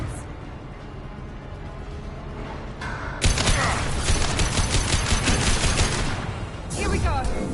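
Gunfire in Mass Effect erupts after a quieter few seconds: rapid, sustained loud bursts of weapon fire that run for about three seconds, pause briefly, then resume.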